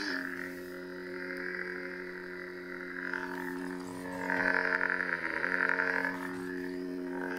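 An Ultra Sabers Raven lightsaber with the Sister of Shadows sound font hums steadily at close range, its drone swelling into whooshing swings twice as the blade moves.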